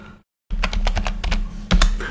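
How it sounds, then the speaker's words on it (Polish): Fast typing on a computer keyboard while entering a name in Microsoft Excel 2019, a close, loud run of uneven clicks and clacks. The keys start after a brief silence and keep going with no talking. "wpisujemy nazwę, na przykład"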